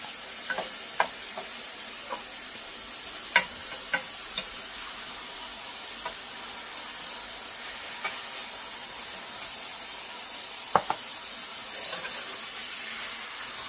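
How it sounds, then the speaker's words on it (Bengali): Chicken pieces for a shahi korma sizzle softly in a pan, with occasional sharp clinks and scrapes of a spoon stirring them, alone and fairly faint. "মাংসগুলো আমার হালকা ভাজা হয়ে গেছে, বেশি ভাজবো না, হালকা করে ভেজে নিয়েছি।"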